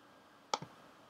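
A single sharp computer mouse click with a faint second tick just after, close and crisp against a quiet room hum.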